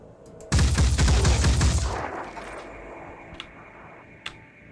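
Gunfire from the video game Phoenix Point: a loud, rapid burst of automatic shots lasting about one and a half seconds, then a fading rumbling tail and a couple of faint clicks.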